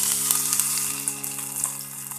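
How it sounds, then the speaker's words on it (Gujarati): Ginger paste hits hot oil with cumin seeds in a kadai and gives a steady, close sizzle with a bright crackle and a few soft pops and stirring ticks. No voices are heard. "હવે તેમાં આદુની પેસ્ટ એડ કરી દઈએ,"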